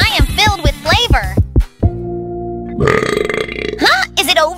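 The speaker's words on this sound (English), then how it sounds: "Burp!" An animated cartoon character from a Poppy Playtime Chapter 3 mukbang scene lets out a loud, long, drawn-out burp after eating, set between bursts of exaggerated character voices.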